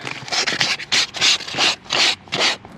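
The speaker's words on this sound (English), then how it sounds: "The next step is to sand it" Sandpaper rubbed over a surface to roughen it before cleaning, in a steady series of about seven rhythmic back-and-forth strokes, close and fairly loud with short pauses between.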